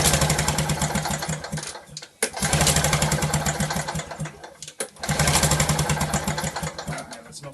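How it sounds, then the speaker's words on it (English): A Victa two-stroke lawn mower engine is pulled over with the ignition off, giving three loud, close bursts of rapid chugging compression, each a couple of seconds long with short pauses between. "we're just going to pull the motor around, and that'll help us pump all that extra fuel out"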